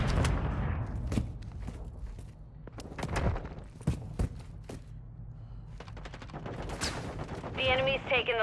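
Sharp gunshots crack in a Call of Duty: Modern Warfare III match, scattered single shots and short bursts spaced irregularly, with footsteps and a brief voice toward the end.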